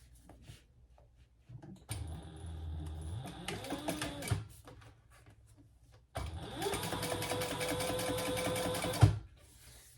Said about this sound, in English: And then we're going to turn that up and top stitch on the trim piece.